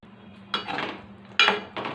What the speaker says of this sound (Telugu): మూత పెట్టుకున్నామండి.